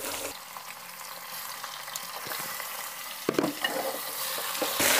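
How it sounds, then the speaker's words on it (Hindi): Beef pieces added to hot oil with golden-brown fried onions for a Sindhi beef biryani, sizzling steadily while being stirred, with occasional scraping clatters of the spoon against the pot. "अब हमने इसमें गोश्त ऐड कर देना है।"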